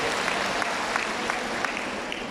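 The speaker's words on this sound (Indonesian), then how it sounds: "Mari kita beri sorak-sorai kepada Tuhan dengan tepuk tangan yang gemuruh." A church congregation at a women's conference in Kundasang, Ranau, Sabah breaks into loud, dense applause, a steady wash of many hands that stays full and even throughout.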